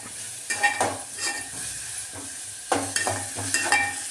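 Onion fries in a pan for a bhindi fry, a gentle steady sizzle punctuated by irregular spatula scrapes and knocks against the metal, close up with no talking.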